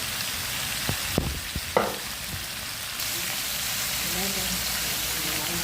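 Crab stir-frying with curry powder in a hot pan, a steady sizzle with a few sharp utensil knocks early on, continuing evenly throughout.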